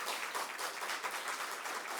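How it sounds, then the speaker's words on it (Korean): Members of a church congregation at a Wednesday evening service clap vigorously to thank and encourage a missionary, producing a continuous, full burst of many hands that stays loud and even throughout. "감사와 격려를 보태서 힘차게 박수 한번 주시겠습니다"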